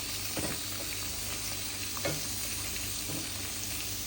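Onion, curry leaves and spices sauté in plenty of oil, giving a steady close sizzle with a few soft stirring scrapes, no talking.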